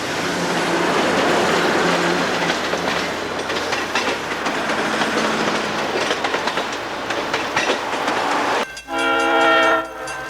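An RS-1 diesel locomotive on the New York Susquehanna & Western pulls an excursion train past, its wheels clacking and engine rumbling loudly, then a strong horn blast sounds near the end.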